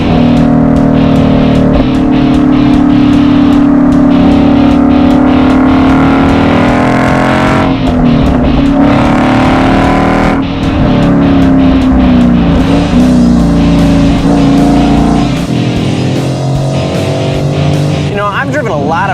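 A mostly stock Ford Mustang engine revs and pulls hard while driven, a loud sustained roar with harmonic drone rising and falling through gear changes, with people talking over it.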